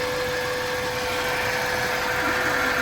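A 2007 Kia Sportage engine idles with a misfire, ignition coil 2 failed and removed, a steady close-up drone with a rough, even vibration and no pauses.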